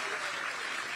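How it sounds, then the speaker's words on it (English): Brief burst of dense crowd applause at a Kamala Harris campaign event with Liz Cheney in Pennsylvania, steady and loud throughout the moment. "Can you believe that's an applause line?"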